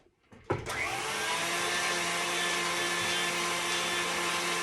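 An electric mixer whirs into tea cake batter as vanilla is blended in, starting up with a jolt and then holding a loud, steady motor drone.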